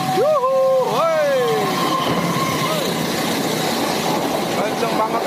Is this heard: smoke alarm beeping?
no